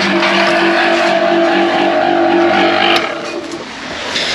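A struggling cement mixer motor runs loud and close during a garage conversion, a steady strained drone with tonal whine that drops off and eases near the end.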